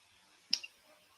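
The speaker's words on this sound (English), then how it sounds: "Once you have all the steps complete, you can click on proceed" A single sharp mouse click from a computer mouse pressing an on-screen proceed button, close and quiet, with a faint second tick just after and near silence around it.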